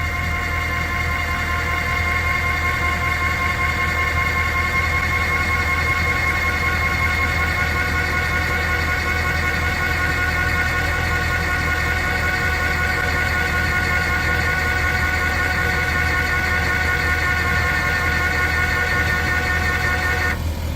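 An all-in-one electric car jack kit raising a car, giving a steady motor whine with a constant tonal hum that holds at an even level for the whole stretch, close up and with no talking over it.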